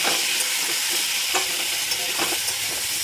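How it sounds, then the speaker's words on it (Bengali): Cauliflower pieces seasoned with salt and turmeric fry in hot oil, a dense, bright crackling sizzle up close, with a few soft clinks of stirring now and then, no talk. "ওই তেলের মধ্যে ফুলকপিগুলো ভেজে নেব"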